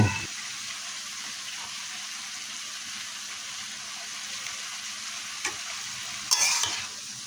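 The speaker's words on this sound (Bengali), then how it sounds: "হলুদের গুঁড়া দেওয়ার পর ভালো মতো নেড়ে নেব।" Banana stem fries with turmeric powder in a pan under a steady close sizzle, and a spoon scrapes briefly near the end. No one speaks.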